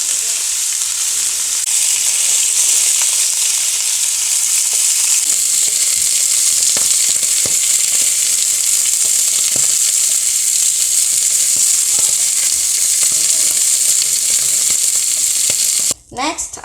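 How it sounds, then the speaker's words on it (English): Salmon fries quickly in a hot pan with a loud, continuous sizzle that holds for many seconds, broken by small scrapes and clicks of handling before it cuts off abruptly near the end. "I'm gonna do a quick frying, just quick it to be all the way done."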